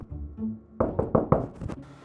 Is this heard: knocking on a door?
yes